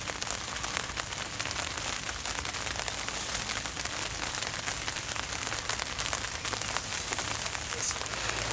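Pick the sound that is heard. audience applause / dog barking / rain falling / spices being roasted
rain falling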